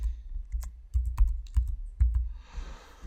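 Keys clatter on a computer keyboard while text is typed into an Excel spreadsheet, a quick uneven run of close, crisp taps followed by a brief soft rustle, with no talk.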